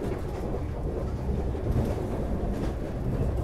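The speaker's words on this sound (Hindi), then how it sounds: "ट्रैक साउंड भी काफ़ी अच्छा आ रहा" A Vande Bharat express train runs on track at about 110 km/h, giving a steady, dense rumble of wheels and rails heard from inside the coach without a break.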